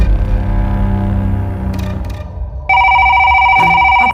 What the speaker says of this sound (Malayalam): അപ്പോഴേക്കും റിസപ്ഷനിൽ ഫോൺ റിങ് ചെയ്തു.